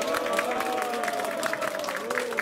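Applause and cheering from the crowd at a Democratic Party Seoul chapter labor committee ceremony, a dense steady wash of clapping with a tonal voice or hum running through it.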